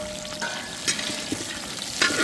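Spring onion and onion petals sauté in hot oil with a steady close sizzle, punctuated by a few stirring clicks and scrapes.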